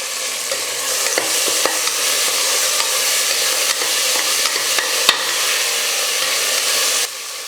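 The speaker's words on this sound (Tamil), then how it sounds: "வெங்காயம் தக்காளி எல்லாம் நல்லா வதங்கிடுச்சு" Onions and tomatoes sauté in a pan for rajma pulao, a steady close hiss and sizzle with light stirring scrapes and taps, loud and without speech, the sizzle dropping slightly near the end.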